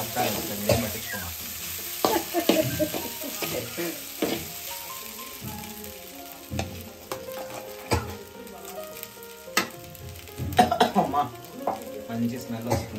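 Rice sizzles and crackles in a hot frying pan in a village kitchen while a spoon scrapes and stirs, the frying hiss steady underneath repeated clinks and knocks of utensil on metal, with occasional voices.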